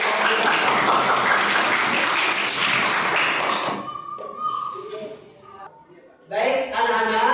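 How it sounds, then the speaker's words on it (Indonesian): A burst of applause from a classroom of students fills the first few seconds, then fades into scattered claps and voices. "Tepuk tangan untuk kelompok 3."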